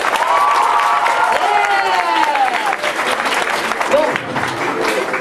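A comedy show audience applauding and cheering, loud crowd clapping and whoops throughout, with people shouting and talking over it.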